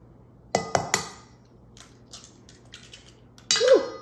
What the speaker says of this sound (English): I'm gonna crack them into the bowl.